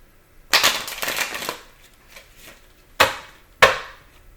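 Tarot cards are shuffled with one riffling burst, then two sharp separate slaps as the deck is squared, close and clear with no talk.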